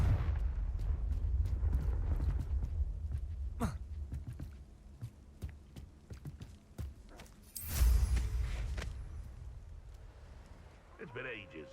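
Confringo fire spells from Hogwarts Legacy burst in a series of sharp, scattered cracks and booms, with one bigger, longer rumbling blast near the end, while a voice talks over parts of it.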